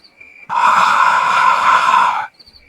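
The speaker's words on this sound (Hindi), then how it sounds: "रमेश चिल्लाया और पीछे गिर पड़ा।" A man lets out a loud, sustained scream of terror in a horror story, a single cry of about two seconds that rises abruptly, holds steady, and cuts off. No talk over it.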